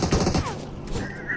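Gunfire in the mobile battle royale game BGMI: a quick cluster of sharp shots opens the moment, then fades into quieter game ambience with a brief tone near the end.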